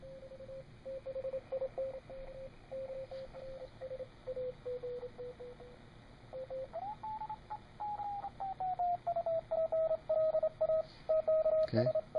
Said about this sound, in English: See how the Q multiplier has eliminated all that noise. It brings it right in.